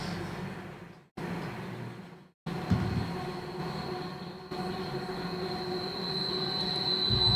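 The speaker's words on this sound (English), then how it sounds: "Sorry, that's the train." A train rumbles steadily past nearby with a continuous rolling roar and faint high wheel squeal, briefly cut by two short gaps, no talk over it.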